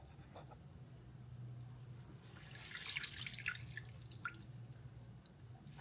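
Arugula rinsed under running water at a kitchen sink: a faint, soft splashing and trickling that swells in the middle of the clip over a low steady hum.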